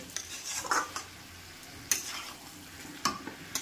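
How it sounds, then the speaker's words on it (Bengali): Chicken is stirred with coriander leaves in a kadai, with a soft background sizzle. A few louder scrapes and clinks of a spoon against the pan are spaced out. "ধনেপাতাটা দিয়ে ভালো করে আমি মাংসটাকে মিশিয়ে নেব।"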